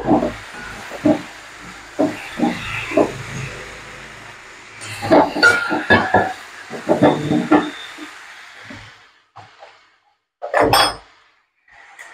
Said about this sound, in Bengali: সামান্য একটু জল দিচ্ছি, নালে লেগে যাচ্ছে শুকনো মশলা।